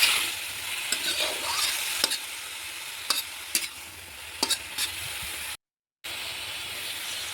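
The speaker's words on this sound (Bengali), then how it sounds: "লাউগুলো দিয়ে নাড়াচাড়া করতে থাকি আমি একটু" Chopped bottle gourd sizzles steadily in a hot pan while a spoon or spatula stirs it, the soft frying hiss broken by a series of sharp scraping clacks; close and quiet, with a brief silent gap near the end.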